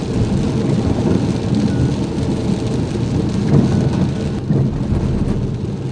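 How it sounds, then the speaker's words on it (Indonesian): Rain falls outdoors in Penampang, a steady, fairly loud hiss of drops with a low rumbling undertone that continues evenly for several seconds, with no voices. "hujan turun renyai-renyai"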